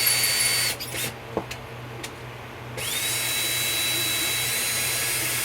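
A .30-06 brass cartridge case is trimmed in a case trimmer die on a reloading bench, giving a steady close whirring drone that drops out briefly with a few small clicks, then resumes and runs steadily to the end.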